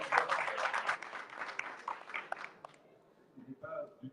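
Applause from a municipal council session in Saint-Josse, a dense patter of clapping for about two and a half seconds that fades out, followed by a few faint scattered sounds.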